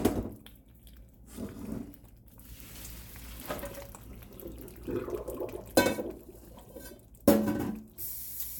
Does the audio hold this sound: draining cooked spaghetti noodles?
yes